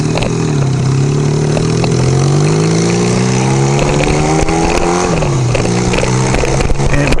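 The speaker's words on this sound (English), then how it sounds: "Just wanted to go get gas on my bike and do a little quick ride." A homemade motorcycle's engine drones loudly and steadily throughout, its pitch rising and dipping slightly as the rider throttles along on a short ride to get gas, with no talking.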